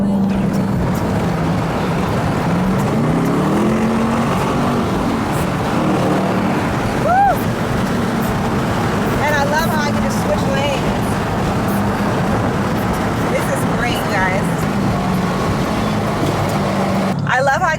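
A loud engine roars steadily from inside a moving 2021 Dodge Durango SRT Hellcat with the windows down, with road noise throughout and brief voices talking over it.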